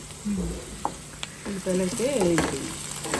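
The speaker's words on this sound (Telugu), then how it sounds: "చూసారు కదండి ఉల్లిపాయ ముక్కలు అయితే వేగిపోయినాయి" Onion pieces sizzle and fry in a pan for a Meal Maker cashew masala curry, stirred with a few scraping clinks, steady crackle close by while a voice talks briefly over it.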